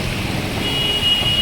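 Heavy rain falls on a waterlogged street with busy road traffic, a steady, loud wash of rain and engine noise throughout with no clear voices.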